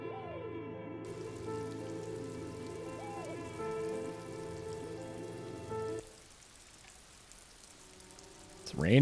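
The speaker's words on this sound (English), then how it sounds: "It's raining." Steady rain patters over the streets in the detective game Disco Elysium, a constant hiss beneath melodic music and game tones that cut out partway, leaving the rain alone and quieter.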